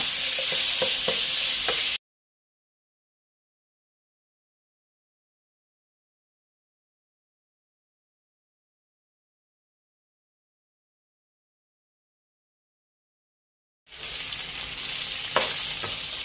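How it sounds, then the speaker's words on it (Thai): Pork belly stir-fried over medium-low heat gives a loud, dense sizzle with stirring scrapes, heard in two short stretches at the start and end with a long silent gap between them. "คั่วไฟกลางค่อนข้างอ่อนนะคะคั่วไปเรื่อย ๆ นะคะจนกระทั่งหมูสามชั้นสุกเหลืองเลยค่ะ"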